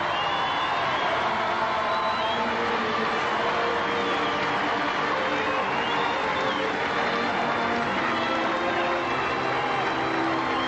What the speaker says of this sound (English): to accept the plaudits and the greetings of this vast crowd